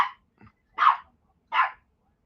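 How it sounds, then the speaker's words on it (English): A dog barks three times up close, short sharp yaps spaced apart with silence between them. "quit barking. You're annoying."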